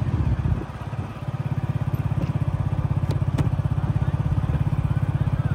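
A motorcycle rides along a newly built road at the Varanasi tent city, its engine giving a close, loud, steady rhythmic throb with a brief dip early on.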